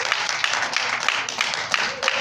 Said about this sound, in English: You better clap your hands right there.